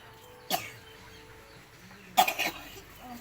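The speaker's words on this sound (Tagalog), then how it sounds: "Ang sama sa ubo ko." Two coughs in a quiet room: a single sharp cough, then a louder, rougher cluster of hacking coughs a couple of seconds later.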